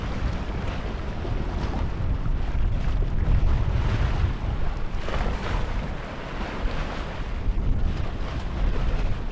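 Strong Caribbean trade wind rushing across a sailboat on open water near San Vicente and Bequia, a constant loud roar of wind buffeting with waves and spray underneath, no voices.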